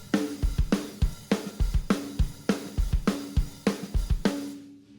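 A drum kit plays a steady straight beat, with kick, snare and hi-hat hits landing in even eighth-note time. The groove repeats for about five seconds, loud and close, with no talking, then cuts off.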